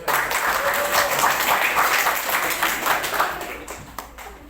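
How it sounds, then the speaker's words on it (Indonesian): A classroom of students claps together before a lesson, a steady wash of applause at close range that fades out, with a few stray claps and voices at the end. "Oke, tepuk tangan buat kita."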